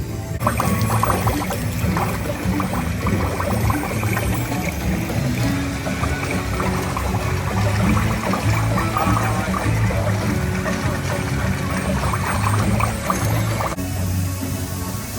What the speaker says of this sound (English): I'm gonna make this water stop with my hand.